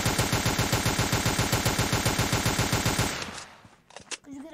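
Rapid automatic gunfire in the browser shooter Combat Reloaded, a loud continuous burst of evenly spaced shots lasting about three seconds, then a few fainter game sounds.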